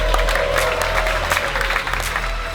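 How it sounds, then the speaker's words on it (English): A crowd at a Kappa x Gumball 3000 collection event claps and cheers, with dense steady applause running throughout. "So thank you guys, give them a cheer."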